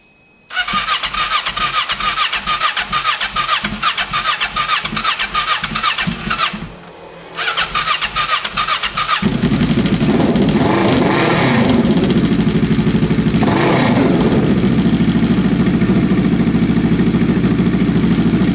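A Kawasaki ER-6n motorcycle engine cranks with rapid repeated turnovers after a spark plug change and air box removal, pauses, cranks again, then catches and settles into a loud, steady idle.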